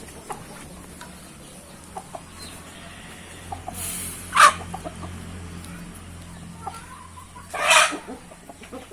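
Free-range village chickens cluck in a backyard flock, with two louder bursts of clucking standing out over a low, steady farmyard background and no speech.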